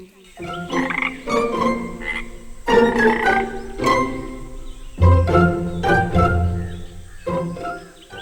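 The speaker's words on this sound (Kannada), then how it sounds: "ಅಲ್ಲಿ ಪಕ್ಕದಲ್ಲಿ ಒಂದು ಕೊಳದಲ್ಲಿ ಹಲವಾರು ಕಪ್ಪೆಗಳು ಬದುಕ್ತಾ ಇದ್ವು" Cartoon frogs croaking in a pond, a loud close chorus of repeated throaty, voiced croaks in uneven bursts, some deep and resonant, filling the whole stretch without talk.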